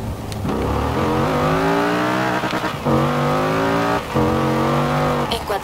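A 2016 Dodge Viper ACR revs hard in Forza Horizon 4 on dry asphalt, its engine climbing in pitch through three rising pulls with brief gaps between gear changes, loud and close with no voices.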